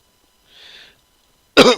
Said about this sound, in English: Oh, excuse me, got the mad coughs.